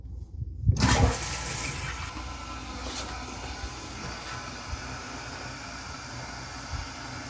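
After a brief silence, water gushes into a toilet tank with a burst, then settles into a steady hissing rush of the tank filling, continuing evenly to the end.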